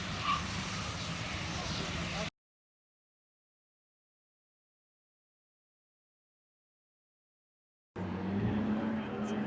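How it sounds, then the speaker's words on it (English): A car does a burnout at Sonoma Raceway, heard as a faint, rough engine and tire roar. It comes in two stretches split by a long silent gap. "Look at that burnout."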